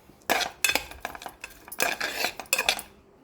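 A metal spoon clanks and scrapes against a metal pressure cooker in a series of irregular stirring strokes, mixing chopped onions, close and fairly loud.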